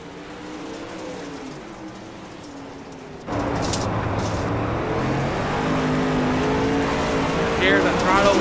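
A race car engine in the All-Star Racing Series at Lanier roars with throttle work. A quieter, distant drone gives way abruptly to a loud, close, sustained engine note that rises and falls with throttle changes.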